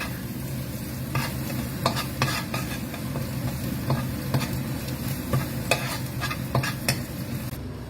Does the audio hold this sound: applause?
no